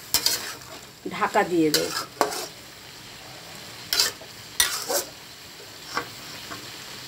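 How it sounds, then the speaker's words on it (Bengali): Potatoes with cumin and ginger are stirred and fried in a pan, with scraping spatula strokes in bursts over a low sizzle and a short spoken phrase. "এবার একটু নেড়ে চেড়ে একটু কষে নেব"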